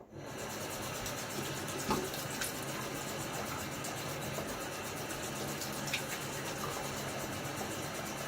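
Water running from a tap during a wet shave rinse, a steady close hiss of flowing water with a couple of faint clinks, no talk.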